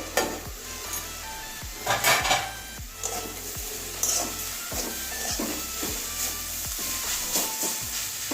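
Garlic and mustard greens cooking in a covered pan give a steady soft sizzle and hiss, with repeated light scraping and stirring clicks and a few brief metallic clinks of the lid and pan.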